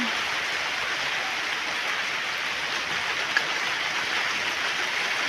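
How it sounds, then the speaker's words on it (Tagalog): Steady, dense hiss of rain falling, constant and even throughout with no other sounds standing out. "Kulimlim ng panahon Ulan po ng ulan."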